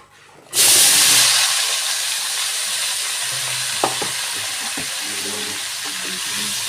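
Cauliflower and potatoes hitting hot oil with turmeric in a kadai burst into a loud sizzle that settles into steady frying, with scattered clinks and stirring scrapes throughout.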